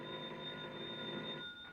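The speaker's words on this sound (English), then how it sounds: "And then a bell started ringing somewhere and woke me out of a sound sleep." An old-fashioned telephone bell rings continuously as a radio drama sound effect, a steady bright ringing tone heard alone and fairly close.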